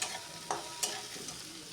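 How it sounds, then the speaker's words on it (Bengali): Potatoes, tomatoes and green chillies being stirred and sautéed in a pan, with a continuous close sizzle broken by a few scraping stirs of a spatula. "এভাবেই আলু, টমেটোকে, কাঁচা লঙ্কাকে ভালো করে নেড়ে চেড়ে একটু কষিয়ে নেব কিছুক্ষণ।"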